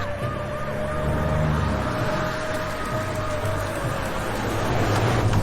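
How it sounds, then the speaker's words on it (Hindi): Wailing sirens of officials' cars and a police jeep sweep up and down over a loud rumble of traffic in an animated story, several overlapping and continuous, close and intense. "चारों तरफ सायरन की आवाज गूंज रही है।"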